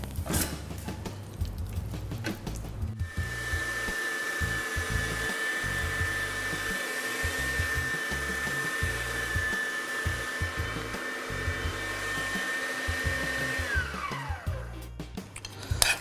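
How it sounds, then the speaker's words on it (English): A meat grinder grinding lean chunks of venison into a bowl, a loud continuous motorized whine that runs steadily for most of the stretch and then spins down near the end, with no talking. "So now I'm going to put it through the grinder and into the bowl"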